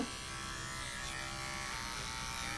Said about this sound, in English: That's why these uh, cordless clippers come in really handy.